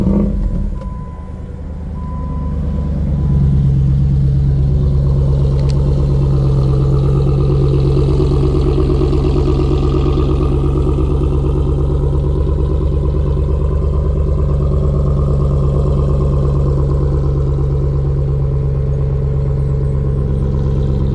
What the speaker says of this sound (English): Let's check out the engine now.